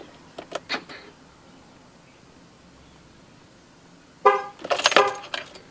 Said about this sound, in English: It could take up to 30 seconds for the horn to chirp.